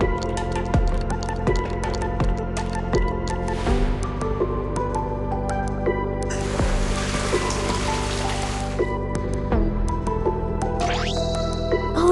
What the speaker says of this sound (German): Fülle das Aquarium mit Wasser.